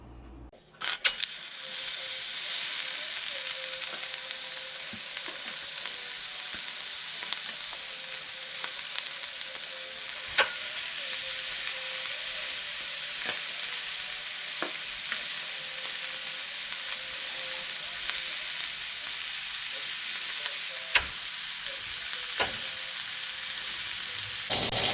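Oxtail searing in a hot pan with no oil, seasoned only with salt and pepper, giving a continuous hissing sizzle with small pops and an occasional sharper crackle, steady throughout and without voices.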